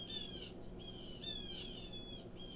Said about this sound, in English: Those are blue jays, by the way. I can see it outside my window.